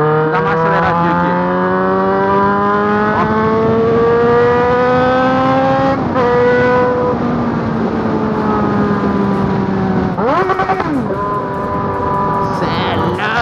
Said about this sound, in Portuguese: Vou dar uma aceleradinha aqui.